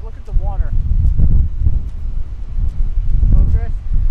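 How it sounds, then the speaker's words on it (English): Strong wind buffets the microphone at a campsite by the water, a loud, rumbling roar that continues throughout while someone speaks over it. "It is so windy."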